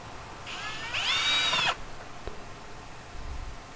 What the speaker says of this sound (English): Here I have to pre-drill the holes